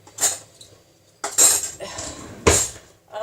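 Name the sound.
spoon being handled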